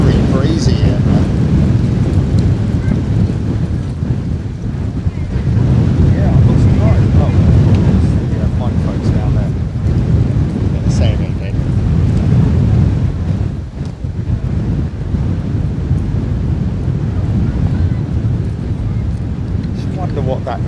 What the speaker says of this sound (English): Wow, it's getting very, very breezy here